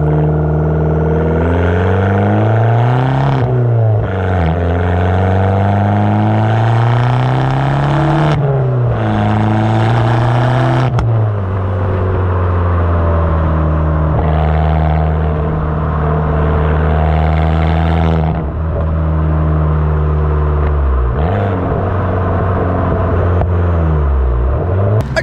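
An Abarth car fitted with a Magneti Marelli straight-through exhaust accelerates through the gears, its loud engine note climbing and dropping with each shift, a steady, droning tone with clear revving throughout.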